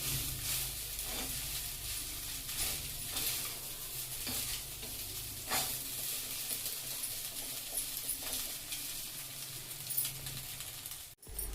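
A spoon stirs aloo rice mixed with garam masala in a pan, producing steady scraping and faint sizzling with soft repeated strokes throughout, no voices.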